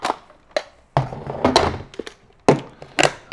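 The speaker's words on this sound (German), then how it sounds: "Magazin raus." The magazine is pulled out of an X-Shot Hyper Gel Gatling gel blaster prototype, a plastic toy. Several close, sharp plastic clicks and thunks come in short irregular bursts against a quiet room.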